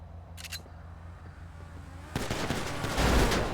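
Gunfire in GTA Online, from a sniper-versus-flipping-cars adversary mode: a brief distant shot early on, then a dense burst of loud rapid gunshots and impacts filling the final second and a half, with no talk.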